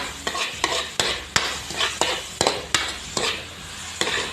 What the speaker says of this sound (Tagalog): Igisa lang natin yung brown pork